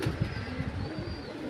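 A pair of Andhra pigeons coo softly at close range, low throaty bursts repeating in a quick rhythm against a faint background hiss.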